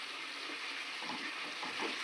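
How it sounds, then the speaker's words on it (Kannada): Onion, curry leaves and coriander frying in hot oil for a North Karnataka tempering, a steady close sizzle with soft stirring scrapes and no voices, growing slightly louder at the very end. "ಸೊ ಕೆಂಪಗಾಗೋವರೆಗೂ ಮಿಕ್ಸ್ ಮಾಡಿ"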